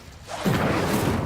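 An Incendio fire spell bursts out in a video game, a soft whoosh that swells into a steady roaring rush of flame and holds loud for about a second.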